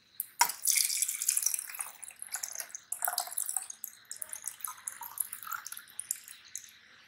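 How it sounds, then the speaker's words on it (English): Cold water trickles and splashes from a small container onto a color-changing Hot Wheels toy car, with continuous bright pouring and dripping sounds up close and no talk. "put the cold water"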